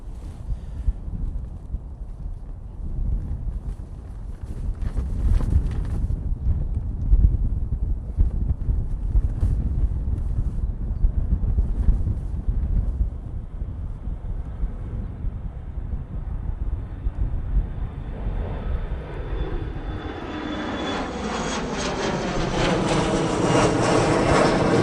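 An airliner takes off at Manchester Airport: the engine roar grows over many seconds into a loud, rising jet whine that builds near the end, mixed with gusty wind buffeting the microphone.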